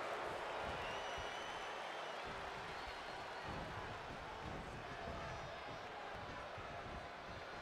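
A large video game wrestling crowd in WWE 2K20 roars and cheers continuously, a dense wash of noise with scattered applause, steady and loud throughout.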